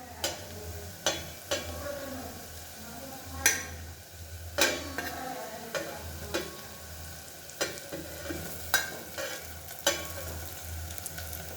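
Purslane (gholachi bhaji) stir-fries on a hot griddle pan with a steady sizzle, punctuated by repeated sharp scrapes and knocks of a spatula against the metal, close and fairly loud with no talking.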